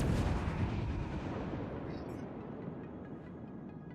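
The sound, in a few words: naval gunfire from Moskva in video game World of Warships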